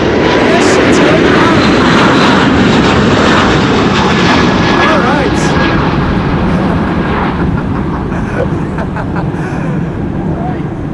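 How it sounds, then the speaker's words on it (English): An Airbus A380 going around in high winds at Amsterdam Schiphol, a loud, broad, continuous engine roar mixed with heavy wind buffeting that stays strong throughout and eases slightly near the end. "Now, while the A380 is going around, have a look."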